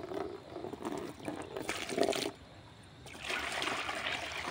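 Water is poured out for a cow outdoors, a soft, uneven splashing and trickling that swells, breaks off briefly, then returns, fairly quiet and close.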